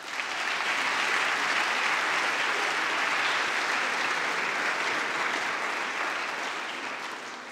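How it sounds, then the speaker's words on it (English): Sustained, dense applause from a large audience at a college awards evening, honoring coaches, student athletes and volunteers; steady and loud throughout, tapering slightly at the end. "would you give them a round of applause?"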